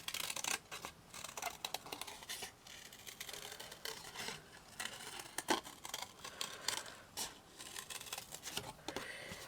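Scissors cutting card for a handmade card topper: repeated close snips and crisp crinkly rustles of the card, irregular and fairly quiet, with no talking.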